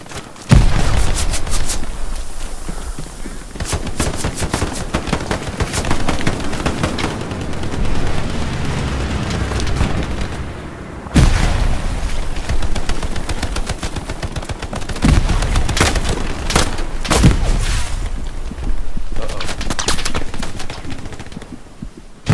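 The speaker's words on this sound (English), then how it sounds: "Just spawning in and throwing all my grenades and rushing in." Gunfire and grenade explosions in the World War II shooter Hell Let Loose: rapid rifle and machine gun bursts run nearly nonstop, punctuated by several sharp, heavy booms, loud and close.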